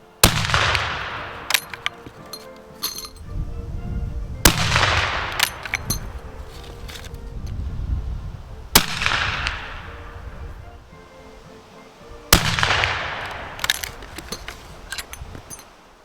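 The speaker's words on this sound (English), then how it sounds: "the little rifle thumps along nicely" Four sharp shots from a Martini-Henry cavalry carbine rifle firing reduced loads, spaced roughly four seconds apart, each a loud close crack trailing into a rumbling echo, with faint clinks and handling noises between.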